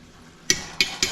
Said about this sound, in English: a spoon of salt goes in there